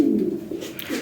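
A pair of yellow Lahori pigeons gives a short, close, low cooing burst, rising and falling once within about a second.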